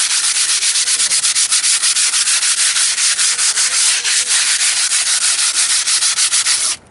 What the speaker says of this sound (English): Just get a little sandpaper.